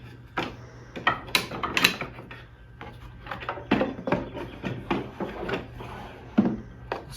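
An antique wooden tool box drawer slides open with scraping, rubbing wood noises and a few knocks, fairly close and moderately loud, with no talk.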